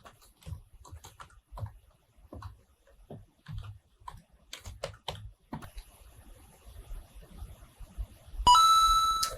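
Keys clicking on a computer keyboard as a password is typed, sparse irregular taps close up in a quiet room, followed at the end by a brief louder tonal beep.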